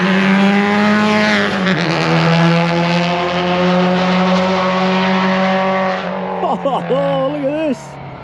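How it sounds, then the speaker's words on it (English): Tarmac rally cars roll out at an evening event in Perth, their engines holding a steady, close drone before revving up and down in quick bursts near the end. "I think we got the first cars coming out."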